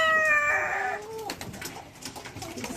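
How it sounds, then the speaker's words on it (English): Pigeons coo up in the rafters of a farm chicken house, a soft rising bird call up front followed by rustling and scattered clucks and movement from the poultry nearby. "couple late risers up in the rafters. Those are pigeons."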